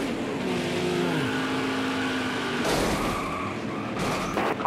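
Race car engines in NASCAR Heat 5 drone loudly and steadily, a buzzing multi-car roar with pitch sweeps as cars shift and pass close by, rising into a sharper rev near the end.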